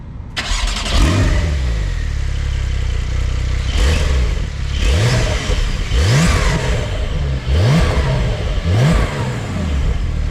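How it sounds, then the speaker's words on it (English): A Porsche 911 Carrera Cabriolet of the 992 generation with dual exhausts starts up in sport mode and revs sharply several times. Each rev rises and falls loudly at close range. "this car has dual exhausts, and the exhaust makes a nice glorious sound, especially in the sport mode."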